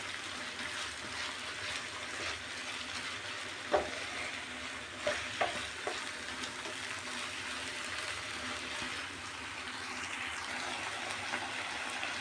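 Beef frying in a pan for picadillo with soy sauce, a steady close sizzle with occasional stirring clicks and scrapes throughout, no talking.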